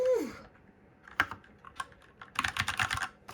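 Keys being tapped on a Keychron K10 or K2 mechanical keyboard, soft clicks that come in a scattered few and then a quick run, close by and quiet, after a short vocal sound at the start.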